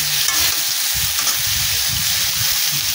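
Boiled potatoes and figs fry in a pan and are stirred, a loud, continuous close sizzle with low scraping stir sounds running underneath.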